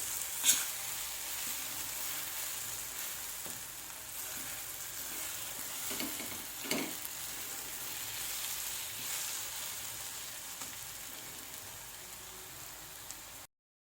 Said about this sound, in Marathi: परतून घ्यायचं आहे आपल्याला. कारण आपण सगळं ह्यात कच्चं घातलेलं आहे, त्यामुळं त्याला भाजण्यासाठी वेळ तर आपल्याला द्यावाच लागणार आहे.